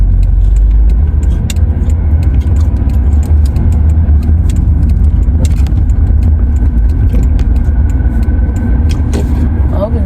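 A car drives along the road toward a car wash, its engine and road rumble loud and steady throughout with small rattles and clicks, and no talking.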